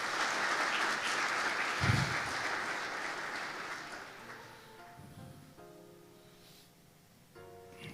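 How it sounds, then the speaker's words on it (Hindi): A church congregation claps loudly and steadily for God, the broad applause thinning out toward the end as music with sustained tones comes in underneath. "जोरदार तालियां खुदा के लिए"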